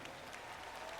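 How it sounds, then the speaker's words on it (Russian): Audience applause at a concert, a dense, steady wash of clapping from a crowd, faint and with no talk. "И эти аплодисменты принадлежат ему."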